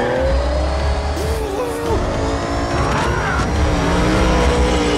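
In a video game, a car drives at the player and runs them over: a loud, close engine roars with tire squeals and skidding, plus a brief revving rise partway through.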